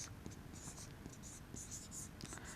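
Chalk or marker writes on a board during an engineering lecture on solid mechanics, giving short, scratchy strokes in irregular bursts, faint and close against a quiet room hiss.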